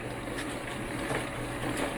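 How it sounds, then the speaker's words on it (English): A dry brass tumbler runs in a garage, giving off a steady, loud, broadband rumble and rattle with no pauses and no talking. "I will turn my dry tumbler back on"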